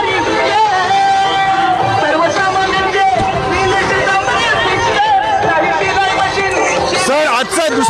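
Dense, continuous chatter of a large crowd gathered at a political rally in a rural area, many voices blending into a loud steady hubbub with no single speaker standing out.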